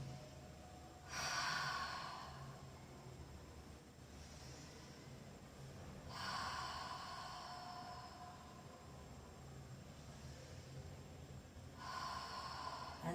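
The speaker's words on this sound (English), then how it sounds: "just exhale saying ha." Breathing exercise exhales voiced as a soft "ha", four or five long breathy bursts spaced a few seconds apart, close and fairly quiet over a steady low background hum.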